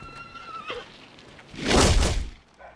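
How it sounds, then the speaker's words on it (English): Horses in a stable at night give a clear whinny, then a loud broadband snort or shuffle of hooves, with dim stable ambience and no voices. "Don't want to confuse the horses in the dark."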